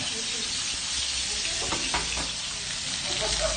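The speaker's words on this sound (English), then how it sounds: "Remember that sound? It's called the sizzle sound." A burger sizzles loudly and steadily in a hot pan, a constant crackling hiss with a few soft scrapes and clicks mixed in.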